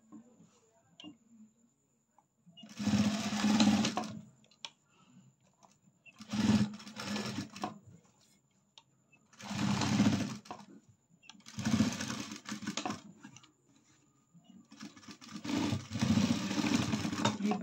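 A sewing machine stitches an Arya work blouse in five separate bursts of rapid, buzzing needle clatter, each lasting a second or two, with quiet pauses and small handling sounds between runs.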